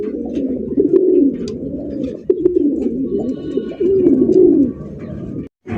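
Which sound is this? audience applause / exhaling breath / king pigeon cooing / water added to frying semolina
king pigeon cooing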